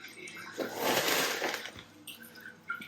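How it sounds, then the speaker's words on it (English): Water pours into a plant pot filled with pumice during a repot of a Zygo Volcano Queen, a soft, rushing fill that swells and then trickles off, heard fairly close and quiet. "So we'll just let that fill back up with some water again."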